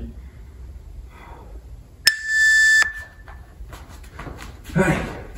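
A single sharp electronic beep lasts under a second, standing out against quiet room noise, followed by faint rustling and a short voice.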